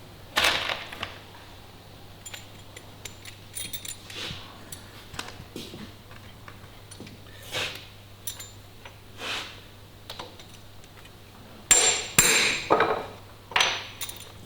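Copper rivets are hammered into a leather belt in a quiet workshop, with sharp metallic taps arriving in irregular bursts and a louder cluster of strikes near the end, over a low steady hum.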